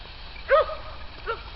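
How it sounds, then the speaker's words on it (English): A dog in a berry garden in Western New York gives two short barks, the first sharper and louder, the second softer a moment later, heard at a moderate distance over quiet background. "I don't know what she's barking at"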